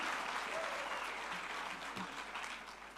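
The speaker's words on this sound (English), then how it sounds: "Can you give her a round of applause, please?" A conference audience at a future-of-work dialogue gives a round of applause, a soft, dense wash of many hands clapping, fairly distant and steady for the whole stretch.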